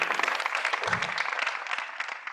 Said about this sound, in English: Big round of applause again.